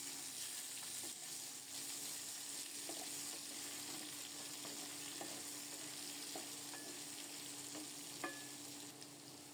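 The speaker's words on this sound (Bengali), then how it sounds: "ফোড়নটা রেডি হলে চাল কুমড়ো দিয়ে দিলাম" Pieces of ash gourd sizzle in tempered oil in a home kitchen, a low, even frying crackle with occasional stirring scrapes and clicks of a spatula against the pan.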